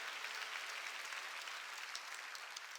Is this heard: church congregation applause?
yes